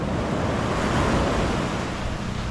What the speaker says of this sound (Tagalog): yan po yung alon ngayon dito no? napakaalon